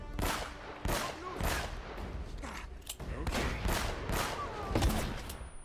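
Gunfire in the game Uncharted: Drake's Fortune Remastered, a close, loud run of repeated sharp shots and bursts in an ongoing firefight, with a voice talking over it.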